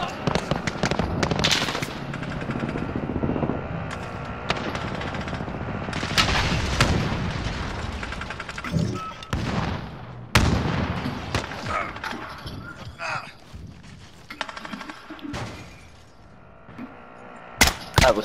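Rapid gunfire in Call of Duty Warzone, with dense bursts of automatic shots and sharp single cracks, loud and close, and brief pauses between volleys; game voices and radio chatter sound faintly underneath.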